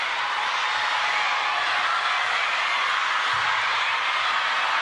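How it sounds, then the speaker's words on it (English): Fans cheer for WANG Chuqin at a WTT Champions Yokohama men's singles table tennis final, a steady broad roar of crowd noise in an arena holding at an even level throughout. "The sound you hear are the fans of the man in a fresh shirt, WANG Chuqin."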